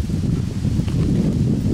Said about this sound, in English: It's very windy out today.